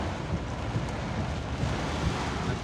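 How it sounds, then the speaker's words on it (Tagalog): A steady, heavy roar of pounding rain and gusting wind strong enough to topple trees in North Cotabato, Philippines, constant and dense with no voices. "Tingnan nyo po itong napakalakas na ulan tsaka napakalakas na hangin."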